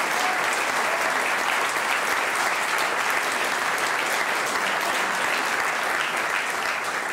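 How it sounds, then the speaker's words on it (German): Sustained applause from an audience at the Grimme Online Award 2024 ceremony honouring the nominees, a dense, steady wash of many hands clapping at even loudness throughout, with no talk over it. "Also da, finde ich, ist es jetzt nochmal der Applaus"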